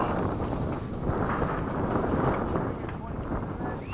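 Steady wind buffets the microphone at an RC model airfield where a Freewing 80mm MiG-21 jet is flown, a continuous low roar that swells and eases slightly with no breaks.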